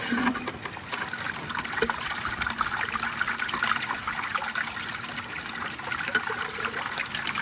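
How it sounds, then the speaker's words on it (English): Water from a turned-on tap or hose runs steadily, a continuous close trickling and splashing rush that holds at an even level throughout, with no talk over it. "Turn on the water."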